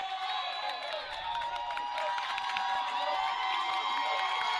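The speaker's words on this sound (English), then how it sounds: "This Tri-Unity crowd excited about the defensive effort here." A high school basketball crowd in a gym cheers and shouts steadily, a dense, bright wash of voices and whoops held at a constant moderate level.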